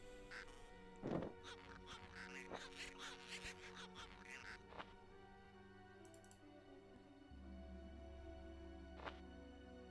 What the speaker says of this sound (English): A pair of birds just having a good carry-on.